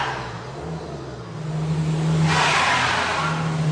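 A car's wheels spin on ice with traction control switched off, the engine revving up as a rising whine and a hissing rush of tyre slip swell midway and hold steady, close and loud.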